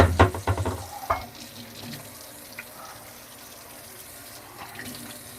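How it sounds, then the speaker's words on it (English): Running tap water splashing over hands at a kitchen sink while dinner is being cooked, a few louder splashes at the start, then a steady low stream. "I wash my hands."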